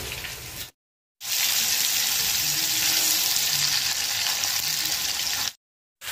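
Oil fries food for a paneer curry with a loud, dense, continuous hiss and crackle close at hand, broken by two short silent gaps.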